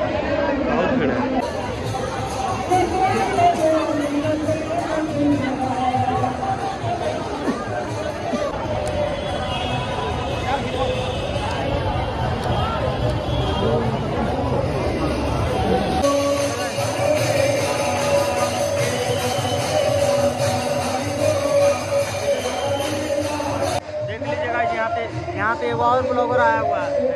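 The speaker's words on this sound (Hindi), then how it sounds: "बहुत सारी भीड़ है" A large crowd packs an ISKCON temple, and dense, steady chatter and babble from many voices carry on without a break, loud and close, with nearby talk mixed in.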